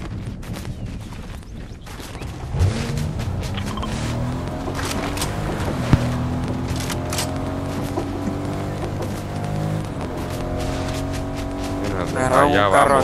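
Cars in the Fortnite video game driving past, a steady engine drone with rising and falling tones and bursts of gunfire, heard under continuous excited talk from players.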